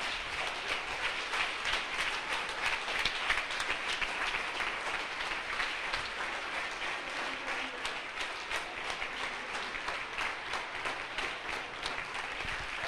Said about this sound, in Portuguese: Agora nós vamos aplaudir fortemente a Deus pela terceira idade que está entre nós.